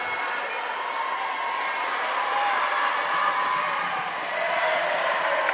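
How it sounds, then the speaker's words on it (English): A student section cheers steadily at a men's college basketball semifinal tournament game, a dense sustained roar of young voices shouting and whooping throughout, with no single voice standing out. "you hear the Lady Raiders down here cheering their guys on"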